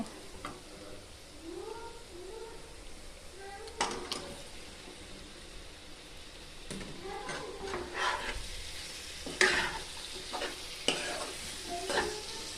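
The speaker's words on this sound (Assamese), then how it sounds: "মছলা ভাজ খালে এতিয়া মই ইয়াতে চিকেনখিনি দি দিম" Chicken fries and gets stirred in a spice masala in a pan, giving a soft steady sizzle broken by several scraping stirs of a spoon, close and moderately loud, with a voice heard faintly at times.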